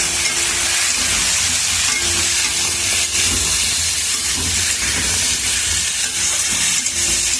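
Pumpkin and potato frying in a pan give a loud, steady hiss and sizzle that continues without a break and without voices, with faint scraping as the pieces are stirred.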